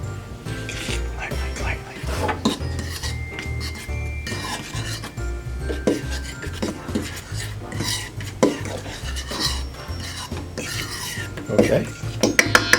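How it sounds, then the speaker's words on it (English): A fork lightly mixes pie dough ingredients in a bowl for a deep dish cherry pie, producing close, repeated scraping and rubbing strokes against the bowl. "It says mix lightly with a fork."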